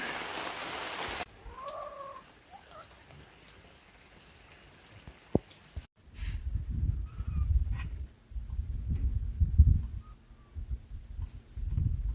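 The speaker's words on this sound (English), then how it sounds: "Some of the heaviest rain I've had." Heavy rain falls at an off-grid homestead as a steady, dense wash that swells louder midway, with a rooster clucking briefly early on.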